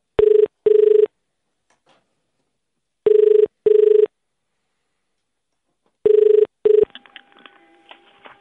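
A telephone ringing tone repeats in three paired bursts, clear and loud against silence, as a call is placed on a phone; faint line noise follows the last ring.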